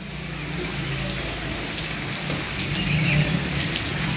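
Steady rain falls at a riverside Shiva temple in a village, a dense, even hiss of drops on surfaces that runs unbroken and fairly loud throughout, with no voices.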